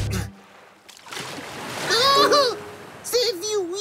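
Cartoon ocean wave splashing water in an animated scene, a splashy surge building and crashing over about three seconds with a second splash near the end, heard alongside character voices.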